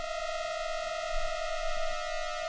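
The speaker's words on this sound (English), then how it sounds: "So there's our Shepard's tone." A Shepard tone from a modular synthesizer, a stack of sustained, evenly spaced pitched tones that hold steady and loud without any voice over them.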